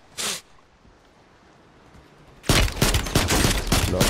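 Gunfire from Call of Duty: Warzone: a single sharp shot near the start, then quiet, then a dense, loud burst of rapid repeated shots filling the last second and a half.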